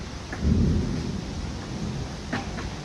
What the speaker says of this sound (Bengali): তো গাইস আজকে বৃষ্টি হচ্ছে ভালোই